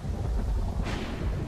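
A Minecraft thunderstorm rumbles heavily and continuously, with a sharper crackling surge of the thunder partway through; no voices are heard.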